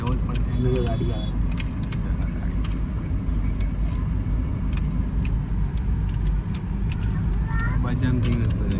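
A car passes along a busy street in Jodhpur amid a steady wash of traffic noise, with voices in the background and a few sharp ticks.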